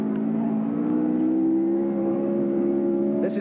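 A 190-horsepower Datsun rally car engine at the 1980 Motoguard Rally holds a steady, loud, buzzing drone with a smoothly rising pitch, as if heard from a close distance.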